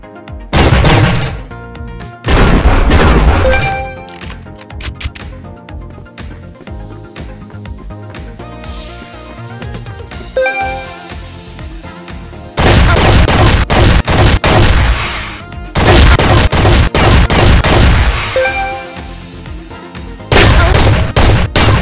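Beretta 687 EELL Diamond Pigeon shotgun fires in the game CrossFire, loud booming blasts in clusters with reload clatter and quieter gaps between, no voices.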